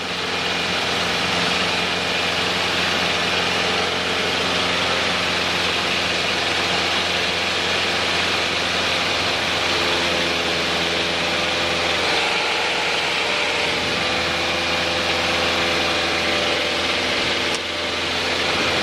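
Piston engines of a small twin-engine airplane drone steadily and loudly throughout, a constant close cabin hum with a slight dip in level near the end, during a training flight between Hawaiian airports.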